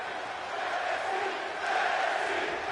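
A dense, steady roar of an arena crowd cheering in the WWE 2K23 wrestling video game during an NXT UK show, loud and continuous, swelling slightly near the end.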